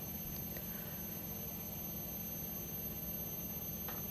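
A pottery wheel spins steadily while clay is trimmed on it, a constant close motor hum with a faint high whine running evenly through the whole stretch.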